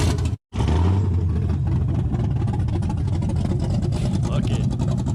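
A Datsun with an LS engine swap runs loud and steady close by, its cam chirping under a continuous rough drone, with a brief dropout near the start and voices mixed in.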